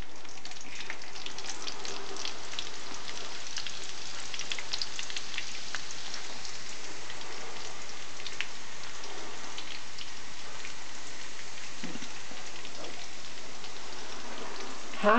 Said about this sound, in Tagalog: biniprito pala yung bawang